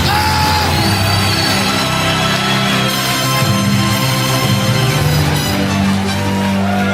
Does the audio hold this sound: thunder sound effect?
no